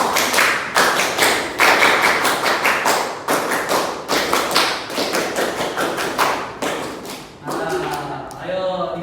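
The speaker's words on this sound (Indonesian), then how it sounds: "Tepuk tangan pramuka 3 kali." Loud, rhythmic scout clapping (tepuk pramuka) from a group of people: repeated rapid patterns of sharp hand claps in quick bursts, ending with a brief voice.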